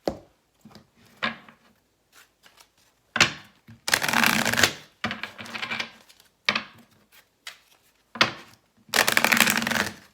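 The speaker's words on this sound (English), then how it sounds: "I feel like I need to pull 3 cards." Tarot cards being shuffled by hand, brisk riffling bursts in several separate rounds with quiet pauses between, close and fairly loud, no talking.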